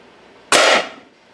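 A single sharp crack from an air rifle firing a .22 caliber FX hybrid slug, loud and close, with a short decaying tail in an otherwise quiet space.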